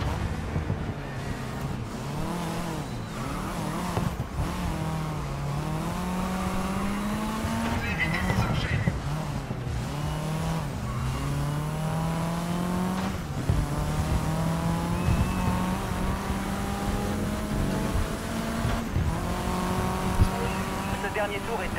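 Race cars roar through a time attack event in the racing game GRID Legends, engines climbing and shifting loudly and continuously with tire squeal, while a voice talks over the action.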